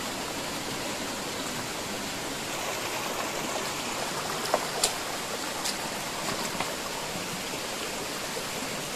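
A rocky river stream flows steadily, a broad even rush of water over stones, with a few brief splashes near the middle.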